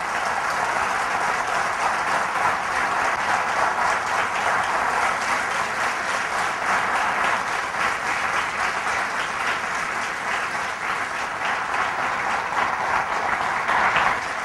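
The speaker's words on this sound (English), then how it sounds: "Let the claps keep on roaring" Loud, sustained applause from a large audience after a lecture on Indian approaches to management, an unbroken roar of many hands clapping for about fifteen seconds, close and steady.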